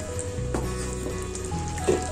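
Tomato curd gravy bubbles and sizzles softly in a pan up close, with a faint steady hiss and a low hum underneath, no talking.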